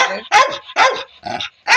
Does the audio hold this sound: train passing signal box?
no